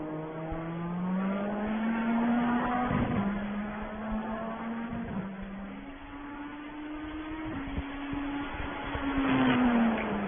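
An LMDH prototype race car laps in iRacing, its engine note climbing and dropping through gear changes, loud and steady throughout with no talk.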